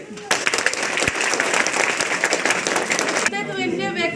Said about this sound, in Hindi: बधाइए तालियों से